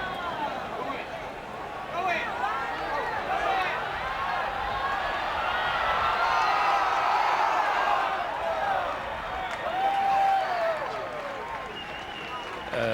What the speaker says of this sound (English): the crowd starts to just murmur in anticipation